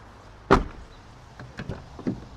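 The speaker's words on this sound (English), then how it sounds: "let's go ahead and give the door a quick try here" A 1998-2002 Honda Accord door opens by its newly replaced exterior handle: a sharp latch clack followed by a few softer clicks and taps, close and otherwise quiet.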